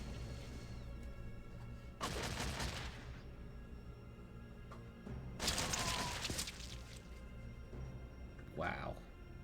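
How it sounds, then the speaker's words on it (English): Automated turrets in Fallout 2 open fire in two long, loud bursts of rapid gunfire a few seconds apart, followed by a brief later burst, with quieter game ambience between them. "The fact that the turrets are shooting at me is crazy."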